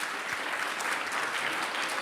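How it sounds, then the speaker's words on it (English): Conference guests applaud at a European values event on the Balkans, a steady, fairly quiet wash of clapping from a seated audience that carries evenly through the whole moment with no voices on top. "I guess you deserve a real round of applause from all our"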